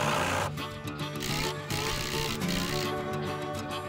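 A power driver runs in rapid, buzzing bursts as it drives bolts into the timber frame of a canoe rack at a cottage, loud and close, with short pauses between runs.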